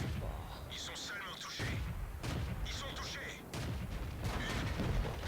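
Tank guns firing in World of Tanks with an AMX 12t, sharp booming shots and impacts over a constant rumbling engine, several blasts spread across the stretch.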